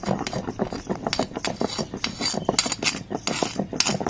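Tomato chutney pounded in a stone mortar, made with native desi tomatoes and no peanuts: a steady run of dense, rhythmic knocking and grinding strokes, close and fairly loud, with no talk.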